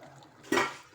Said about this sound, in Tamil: இப்போ கொஞ்சம் புளியை நம்ம கரைச்சி இதில் ஊற்றிடலாம்.